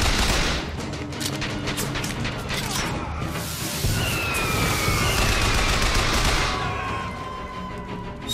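Rapid gunfire in BioShock Infinite, a dense sustained barrage of loud shots and booms with mechanical clatter, continuous and close, with a player's voice briefly heard.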